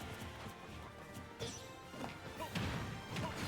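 A knockout up-tilt strike lands in a Super Smash Bros. tournament match, a sharp smash-like impact over faint game noise and crowd murmur, fairly quiet overall.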